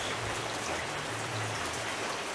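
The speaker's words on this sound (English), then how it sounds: "it looks like it's going to be raining all day" Steady rain falling outdoors on an all-day rainy morning, a constant dense hiss with no breaks, fairly close and even in loudness, with no voices.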